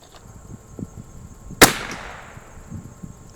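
A vintage 1972 Anschutz 54 Match rifle fires a single sharp, loud shot with a short decaying echo, set against quiet outdoor background noise.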